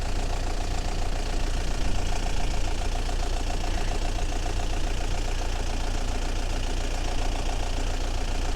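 A four-wheel-drive vehicle engine pulls in second gear on a bush track, a dense, steady mechanical drone with a faint knocking rhythm, heard close and unbroken.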